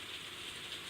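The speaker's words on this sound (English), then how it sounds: "I'm not in the rain, but you know, hitting the conservatory roof." Steady rain drums on a conservatory roof in a continuous, even hiss of patter close overhead, with no voices over it.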